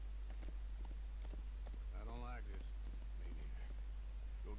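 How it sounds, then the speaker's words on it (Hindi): Horse hooves clip-clopping in Red Dead Redemption 2, quick steady hoofbeats under constant game ambience, with someone talking over them. "ये किसका घोड़ा लेके भाग गया भाई मैं?"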